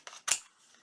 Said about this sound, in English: I am going to take my scissors and trim just a little bit here